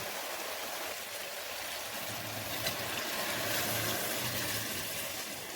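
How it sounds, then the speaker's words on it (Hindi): Water poured steadily into a pot of mutton korma on the stove, a continuous close rushing splash lasting several seconds with no talk over it. "अब हम इसमें डालेंगे पानी।"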